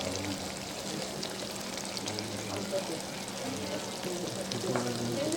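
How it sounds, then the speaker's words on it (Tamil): Ground spice powder is stirred into mutton liver frying for a Chettinad pepper fry, a steady close-up sizzle broken by scraping stirs and a few louder clatters near the end. "இப்போ சுக்காவுக்கு அரைச்சி வச்ச பொடியை சேர்த்துக்கலாம்."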